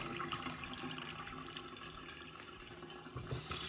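Water poured off soaked, swollen sprouting seeds, a continuous close splashing and trickling stream that swells again near the end, with no voices.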